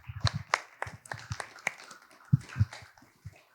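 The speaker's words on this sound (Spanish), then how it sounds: "recibamos a los invitados de la noche con un fuerte aplauso" A small audience at an evening event welcomes its guests with scattered, uneven claps, the separate sharp hand strikes faint and spread out rather than a full ovation.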